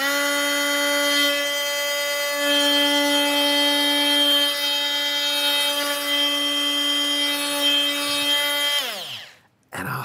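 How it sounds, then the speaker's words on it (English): A cordless Makita 18V LXT oscillating multi-tool runs steadily and fairly quietly at close range, giving a constant high-pitched buzz with a strong whine for about nine seconds before it winds down and stops. "compared to other oscillating tools, from memory, this is pretty quiet"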